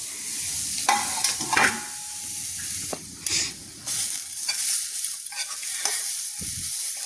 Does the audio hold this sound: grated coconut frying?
yes